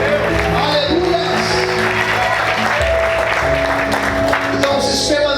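Church congregation applauding the Lord during a worship service, dense sustained clapping filling the room with organ-like tones and voices mixed underneath.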